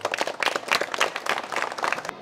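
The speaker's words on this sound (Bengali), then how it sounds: "সবাই জোরে একটি করতালি দাও।" Schoolchildren clapping together at a school magazine programme, a dense, steady patter of many hands lasting a couple of seconds, fairly close and lively with no voices over it.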